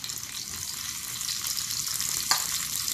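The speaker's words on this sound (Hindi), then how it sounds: "जब ये घी गर्म हो जाए तब मैंने उसके अंदर ये किशमिश जो है ये डाल देना है और उसको हल्का सा मुझे भून लेना है।" Raisins fry in hot ghee with a steady, dense sizzle that holds evenly throughout, and one brief sharper crackle stands out near the end.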